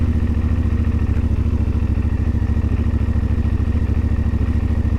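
A CFMoto Ibex 450 motorcycle, troubled by sputtering and stalling, creeps along slowly in first gear on a light throttle, its engine giving a close, steady low chugging thrum without letup.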